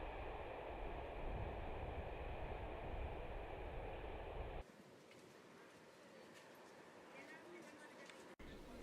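An SBB Cargo freight locomotive hauling an empty grain train southbound passes with a steady, broad rumble and rolling wagon noise that shifts partway through and continues at a constant level.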